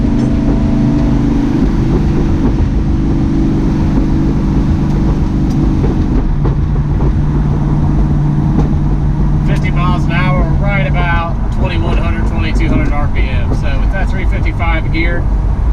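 A 1969 Plymouth Road Runner with a 383 V8 and a TCI Street Fighter torque converter cruises along, its loud steady engine drone heard from inside the car, with a voice speaking briefly near the end.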